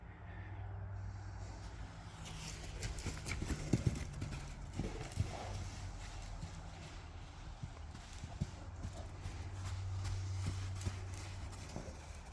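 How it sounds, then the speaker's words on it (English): A small horse walks in an arena with steady, faint clip-clopping hooves at a moderate distance over low background hum and occasional quiet voices. "This is a small horse."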